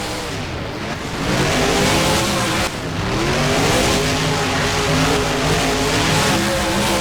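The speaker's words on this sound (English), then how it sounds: "Off the starting line, these two trucks go, and up over the initial starting ramp." Two monster trucks in the BeamNG driving game launch off a starting line and climb a ramp, engines roaring and revving loudly and continuously with rising pitch, a brief dip near the ramp, no voices.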